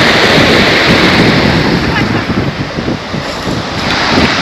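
Sea surf rolling onto the beach at Lazarevskoye near Sochi on a sunny, windy day, a steady broadband rush of waves with gusty wind buffeting the microphone throughout, loud and close with no clear talk.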